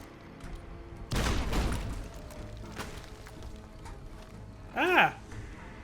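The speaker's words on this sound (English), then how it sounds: "But someone is still shooting." A short, loud volley of gunfire from the video game Fallout: New Vegas, followed by fainter scattered shots, with a voice briefly speaking near the end.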